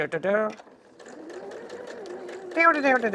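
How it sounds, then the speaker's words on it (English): A sewing machine back-stitches a seam on a scrap fabric envelope pouch, its short, rapid mechanical stitching run heard close by between bursts of a person talking. "back stitch to reinforce that corner, and all the way down to the end"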